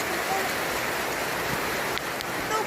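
Rain leaking through the roof of a makeshift shack in a forest, a dense steady hiss of falling water with scattered drips, close and continuous, with no talking.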